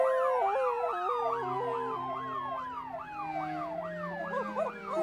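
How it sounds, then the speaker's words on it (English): A cartoon police car siren wails continuously, sweeping up and down in quick repeating cycles, loud and close with no talking over it. "I can't hear anything when my siren's blaring."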